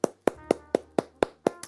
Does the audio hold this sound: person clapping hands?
yes